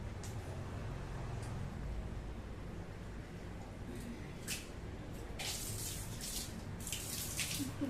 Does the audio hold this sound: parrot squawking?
no